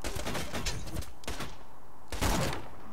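Gunfire in the video game Borderlands 2 comes as quick bursts of shots, a cluster early on, a few isolated cracks in the middle and another burst near the end, moderately loud with no talking.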